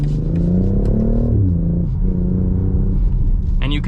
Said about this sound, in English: Now we're gonna go ahead and throw it into sport mode, and we're putting it into S as well, and we'll go ahead and downshift ourselves.